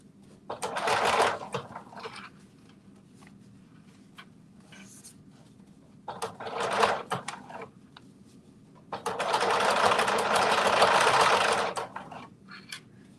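A sewing machine stitches fabric for a Simplicity 2450 pattern, running in three separate bursts of rapid mechanical chatter, the last one longest, with quiet pauses and soft handling noises in between.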